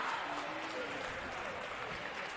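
Applause for the Maple Creek basketball team at a championship game, a soft, sustained clatter of many hands clapping at a distance, with some murmured voices blended into the crowd noise.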